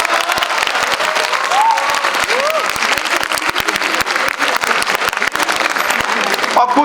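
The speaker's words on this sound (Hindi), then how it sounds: "और कुछ लोग तो इतनी ढीली ताली बजाते हैं" Audience applause: dense, sustained clapping from a crowd at a motivational talk, loud and even throughout, with a few brief voices mixed in.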